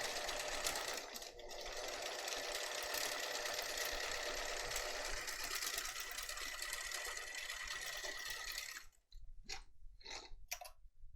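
A sewing machine runs a lock stitch on a purse-size tote bag, humming loud and steady for several seconds before breaking into a few short, choppy bursts and stops.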